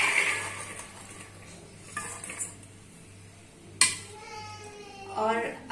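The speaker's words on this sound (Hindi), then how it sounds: "तो अब मैं इन चनों को कुकर में ऐड करती हूँ।" Soaked chickpeas go into a pressure cooker in a home kitchen, making a few metallic clinks and rattles against the pot, with faint background voices including a child.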